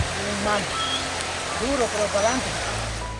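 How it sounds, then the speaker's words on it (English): A storm-swollen river rushes along in a steady, broad roar, with a voice talking over the churning water. "The storm churned up the river."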